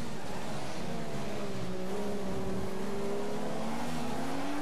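A race car engine in F1 2015 drives a lap of the Australian race in a Bianchi, a steady, loud, close drone whose pitch climbs slowly as it accelerates, with no talk over it.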